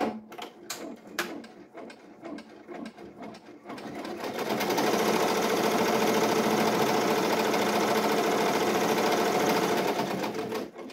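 A Ricoma EM1010 embroidery machine stitches an applique design, first in a few separate mechanical clunks, then settling into a loud, steady, fast-running stitching drone that fills most of the clip.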